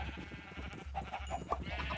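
Minecraft sheep on a survival farm bleating in quick wavering cries, several calls close together over a steady game background.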